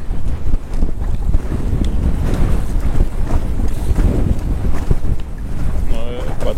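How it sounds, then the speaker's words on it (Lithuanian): Waves slapping against the side of a small fishing boat on a windy lake, with heavy wind buffeting the microphone and a constant loud rumble of water. "Ta maža valtė problematiška, muša per bortą."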